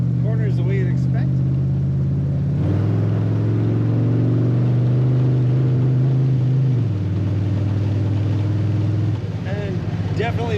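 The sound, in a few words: 1956 Oldsmobile Holiday Coupe accelerating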